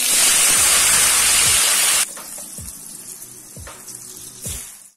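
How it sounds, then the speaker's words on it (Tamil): Loud sizzling of paste frying in hot oil for about two seconds, then the sizzle drops to a quieter crackle with a few soft knocks. "இப்போ எண்ணெய் இங்க இருக்கு, ஹீட் ஆயிடுச்சு. இந்த பேஸ்ட போட்டுருவோம்."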